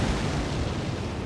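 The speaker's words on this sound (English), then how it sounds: "here's the explosion again." Massive ghost-flame boss attack explosion in the Elden Ring video game, a loud, dense rumbling blast that fills the moment continuously without pause and with no talking.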